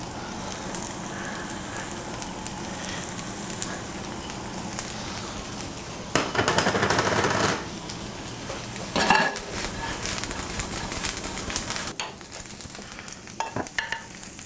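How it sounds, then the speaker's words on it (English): Handmade spätzle fry in butter with toasted caraway and fresh dill, giving a steady close sizzle throughout. Louder bursts of stirring and scraping in the pan come through the frying, with a few clinks near the end. "So there it is, handmade spätzle, fried, tossed in caraway and fresh dill."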